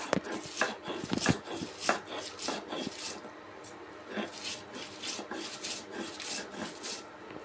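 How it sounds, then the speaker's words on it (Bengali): Bhorta being ground by hand, a steady rhythmic series of rough grinding and pounding strokes, close and fairly loud, with no talk. "ভর্তাটা বেটে নিই"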